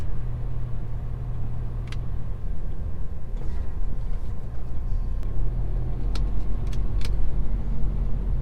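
A truck's engine rumbles low and steady as it manoeuvres out of a tight spot at a loading area, with a few short metallic clicks and clinks over the drone.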